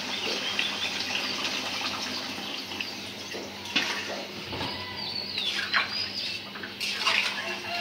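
Steady splashing and pouring of liquid, curry gravy into a pot of beef curry, runs throughout, with a few clinks and brief bursts of louder sloshing near the end.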